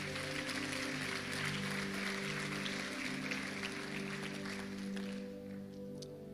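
Church congregation applauding: a broad, even wash of many people clapping at once, with sustained musical tones humming underneath and the clapping tapering off slightly near the end.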